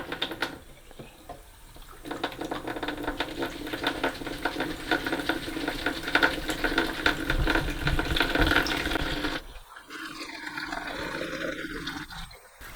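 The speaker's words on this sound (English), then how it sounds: "I'm just going to rinse it out here just in case there is any remnants of vinegar in there" Tap water running into and rinsing the water reservoir of a Tefal Pure Pop handheld steamer, a steady splashing rush that stops abruptly near the end before quieter trickling and handling sounds.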